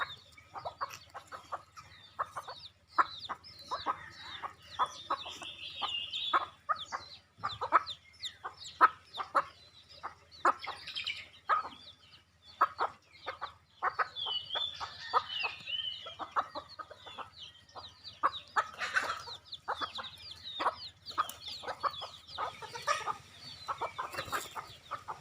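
Hens and cocks in a village yard cluck and squawk while being fed, a lively overlapping flock chattering at moderate distance with occasional louder calls, no talking.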